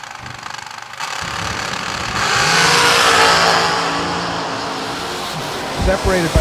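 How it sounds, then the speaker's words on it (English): A drag racing car engine revs hard, backs off and surges again, loud and close, with a brief voice near the end. "You hear Keane in and out of the throttle and he gets the job done."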